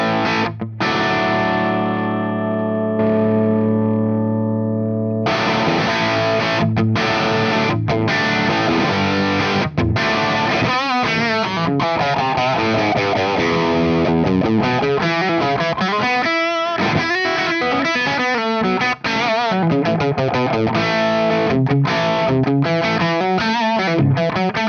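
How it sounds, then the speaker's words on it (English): Electric guitar played through a Marshall Origin 20 amp with the LPD68 Deluxe's clean boost, loud and driven. Sustained chords open the passage, then a busy run of riffs and bends continues without pause. "The LPD68 Deluxe has a built-in independent clean boost, so let me show you how it sounds with that."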